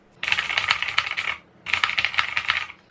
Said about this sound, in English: the keyboard uses a variant of the Cherry MX Blue switch